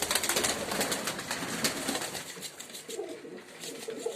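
Cream-coloured domestic pigeons coo softly nearby in repeated low murmurs, mixed with rustling noise from the loft.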